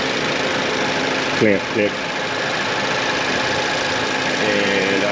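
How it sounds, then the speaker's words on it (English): Car engine with gasoline multiport and direct injection idling steadily after a fuel system and induction cleaning, a constant close hum beneath a few short spoken words. "I'm going to let this idle for a couple minutes"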